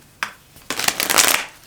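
A deck of tarot cards shuffled by hand in two bursts, a short riffle of cards followed by a longer crisp flurry of shuffling and drawing, close and fairly loud with no talking.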